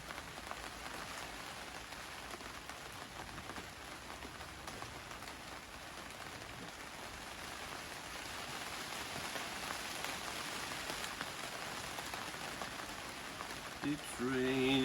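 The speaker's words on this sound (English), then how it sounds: "It's raining again." Steady rain falls continuously on an outdoor surface, a dense hiss that runs without a break, heard beside an old Fordson Major E1A tractor under repair.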